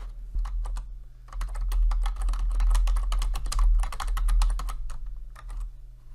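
Rapid keystrokes on a computer keyboard as a username and password are entered, bursts of close, crisp clicks with short pauses between runs.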